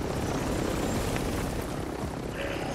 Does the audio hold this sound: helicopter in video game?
yes